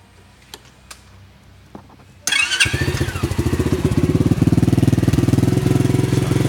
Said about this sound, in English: we're going to do a quick test where we're going to start the bike